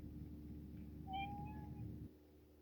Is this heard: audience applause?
no